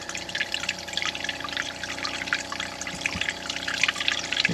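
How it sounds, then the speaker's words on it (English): An RV water pump hums steadily while water lines are drained for winterizing, its constant tonal drone mixed with splashing, trickling water that pours out continuously and fairly loudly. "You can hear the water pump working."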